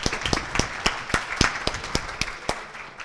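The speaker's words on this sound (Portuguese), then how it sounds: "eu queria que vocês dessem uma salva de palmas agora para o Linux" Audience applause at a tech talk on cloud-native DevOps and open source, made of distinct, fairly close hand claps in an uneven rhythm over a softer background of scattered clapping.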